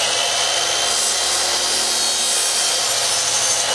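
A chop saw cuts wooden picture frame pieces set against a stop block, giving a loud, steady, rasping broadband cut that runs unbroken through the whole stretch, with no talking.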